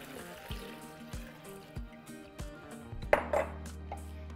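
Clattering kitchen sounds with a splash and gush of water pouring into a blender cup holding strawberries near the end, close and moderately loud.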